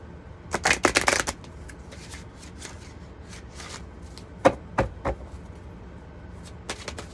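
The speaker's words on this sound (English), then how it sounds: "Let me shuffle one more time." Cards are shuffled close by: a quick riffling burst at the start, then scattered soft snaps and taps of cards being squared.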